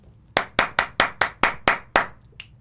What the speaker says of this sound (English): I know that sounds like one person clapping